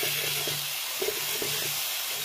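Garlic paste sizzling in hot oil alongside bathua greens in a pan, a steady broad hiss with faint crackles throughout, close and fairly loud, no talking.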